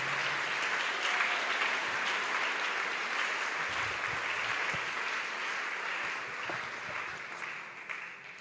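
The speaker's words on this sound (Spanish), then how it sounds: "aplauda fuerte la misericordia del Señor" Church congregation applauding loudly, a steady wash of many hands clapping that holds across the whole stretch and eases slightly toward the end.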